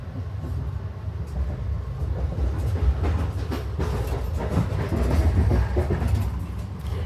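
An Amtrak train rolls along the rails with a continuous low rumble and rhythmic clatter, heard from inside the carriage without talk.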